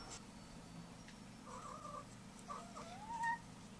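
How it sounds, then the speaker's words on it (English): A pet cat meows a few times, faint and close by, with short rising and falling calls over a quiet room hum. "You hear my cat?"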